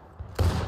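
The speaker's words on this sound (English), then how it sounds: "That was like a Gatling gun." A rapid volley of musket fire in the Civil War game War of Rights, a faint thump followed by a loud, dense burst of overlapping shots that rolls on briefly.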